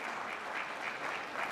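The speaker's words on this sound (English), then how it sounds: "It's not appropriate that there is clapping or any other actions from anyone in the gallery." Applause from the public gallery of the Australian Senate chamber, a steady wash of many hands clapping at moderate distance, continuous and fairly even with no voices over it.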